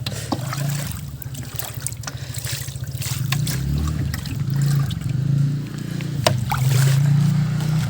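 Water pours steadily into a drum, a continuous close splashing trickle that runs for several seconds alone, with occasional knocks.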